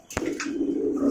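Pigeons coo at a pigeon farm, a low steady cooing running throughout with a brief sharp call near the start, close and clear with no talk.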